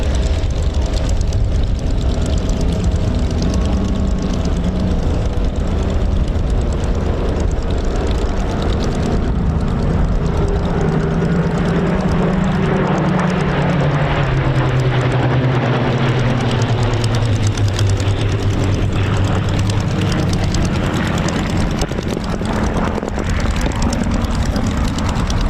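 Spitfire MK912, built at Castle Bromwich in 1944, flies in formation at an airshow and breaks into a tail chase, its piston engine roaring loud and steady for a long stretch, pitch sliding downward as it passes.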